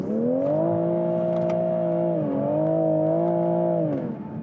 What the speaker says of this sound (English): It lights up the rear tires even with all the systems on, so yeah, it really wants to light the rear tires.